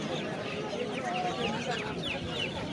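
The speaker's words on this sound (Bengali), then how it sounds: "সিল্কি মুরগি আমাদের হাটের কালেকশন মাশাআল্লাহ, খুবই সুন্দর।" Silkie chickens cluck at a busy poultry market in Narayanganj, a run of soft, overlapping clucks and short calls close by, mixed with steady crowd murmur.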